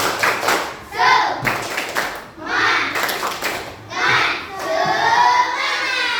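A class of children in Indonesia does a rhythmic spirit clap, clapping and shouting a chant, bursts of clapping and cheering repeating in a lively pattern, close and loud.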